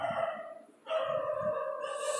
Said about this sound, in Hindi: रात का टाइम है, कुत्ते भौंक रहे हैं